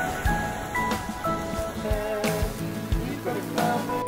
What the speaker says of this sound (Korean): 와, 우리 비가 와. 비가 많이 와.